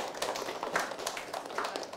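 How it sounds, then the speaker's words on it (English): A Year 6 class claps for a group after its presentation, giving soft, scattered hand claps that sound fairly distant and quiet for a couple of seconds. "now give them a big clap"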